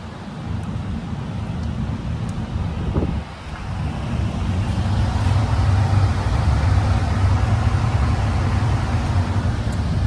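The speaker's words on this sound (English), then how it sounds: "the main noise you're hearing is the fan" Steady broadband whooshing of a workshop heater fan blowing close by, a constant airy drone with low rumble that dips briefly then continues evenly.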